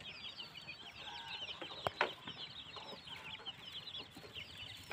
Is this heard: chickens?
yes